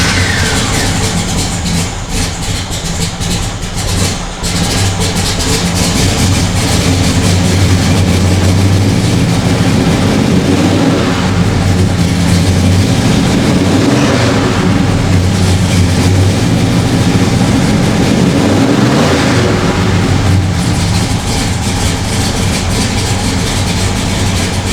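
A 1970 Plymouth Superbird clone's 528 HEMI V8 running loud and close, a heavy low rumble with a lumpy idle throughout and no talking.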